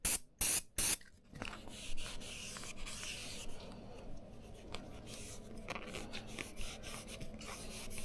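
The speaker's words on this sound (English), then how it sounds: "I cleaned the channel and of course the trim panel itself, which I treated with a silicone plastic spray." Silicone plastic spray hisses onto a trim panel from a Mercedes CLK W209 trunk in three short, loud near bursts, followed by steady rubbing and wiping of the panel.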